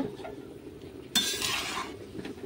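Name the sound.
stirring spices into cooking curry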